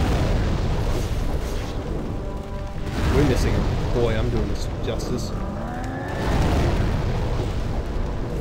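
Fiery explosions from the Flamelurker boss in Demon's Souls, with heavy rumbling booms and roaring blasts filling the whole stretch while people talk over the game sound.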